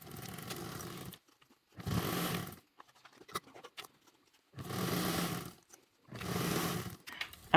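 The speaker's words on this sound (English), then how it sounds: "bring the sewing machine back" A sewing machine stitches a duffle bag in several bursts of rapid mechanical whirring, close up, separated by short pauses with faint handling clicks.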